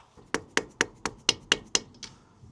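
A small tapping stick knocks a part home on a stripped-down Honda RS250 motorcycle, giving eight sharp, evenly spaced taps at close range, the last one fainter.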